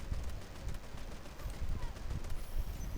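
Dense, continuous gunfire and explosions in a tank video game, a steady rapid rattle of shots with low booming thumps, heard through a noisy mix.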